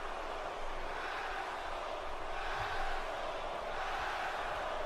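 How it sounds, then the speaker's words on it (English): Crowd noise from a WWE 2K wrestling video game: a steady, dense roar of shouting and jeering spectators at moderate level, continuous throughout with no commentary audible. "And this crowd with some choice words for these two."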